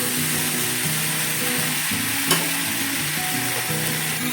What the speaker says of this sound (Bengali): এবার এটাকে ভালো করে কষিয়ে নিচ্ছি